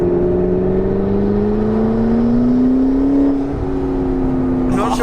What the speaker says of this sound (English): Just listen to the turbos.